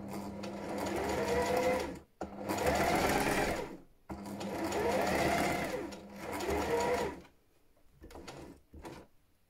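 Sewing machine stitching stretch fabric for a bra, running in three steady bursts of close mechanical whirring separated by brief pauses, then settling into quieter intermittent clicks.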